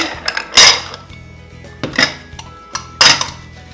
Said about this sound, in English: So we're going to set all of our bowls aside.